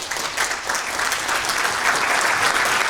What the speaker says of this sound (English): Let's give Doctor a round of applause